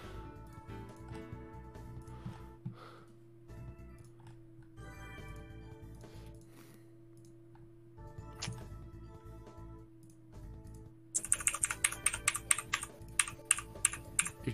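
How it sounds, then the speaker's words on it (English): Quiet computer keyboard typing in a room, scattered clusters of soft key clicks that turn into a brisker, sharper run of taps near the end, with a low steady hum underneath. "You're just making keyboard noises."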